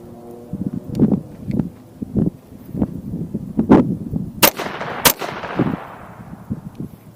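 A Desert Eagle .50 AE pistol fires several heavy shots outdoors at grocery items. Two very sharp, loud cracks stand out near the end, among scattered thumps and rustling.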